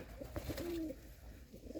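A banded pigeon cooing nearby, one short low coo in the middle of a faint, quiet clip.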